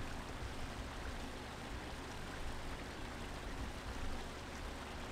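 Steady rushing water of a waterfall in the video game Shiro no Noroi, a constant, fairly faint broadband splashing hiss with no talking.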